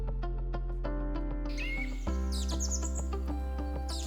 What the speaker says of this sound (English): Resplendent quetzal bird.